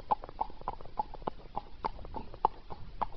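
Horse hooves clip-clopping along a road in an even walking rhythm, a close series of crisp, evenly spaced hoof strikes with no talk over them.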